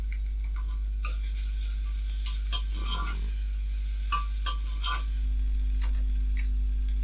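Onions, green chillies and curry leaves sautéing in a pan, with scattered scraping and clicking stirs over a low sizzle and a steady low hum underneath; no speech.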